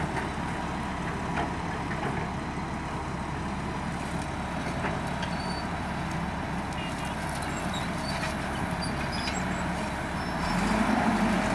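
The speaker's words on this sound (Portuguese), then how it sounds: "Aí vê a hora que esse caminhão sair dali, o aumentar do giro do motor, onde ele precisa de uma potência maior" A loaded off-road truck's engine rumbles steadily and close, then its revs climb and swell louder as it pulls away, set against a dense low drone of machinery.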